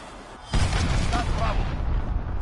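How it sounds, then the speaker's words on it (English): A cruise missile blast in Call of Duty Modern Warfare hits abruptly after a quiet moment, then a loud, sustained rumbling roar follows with faint tonal game sounds over it. "Enemy cruise missile, take cover."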